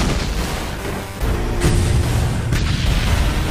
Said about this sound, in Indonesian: pukulan dan tendangan Saitama pun menyebabkan ledakan di mana-mana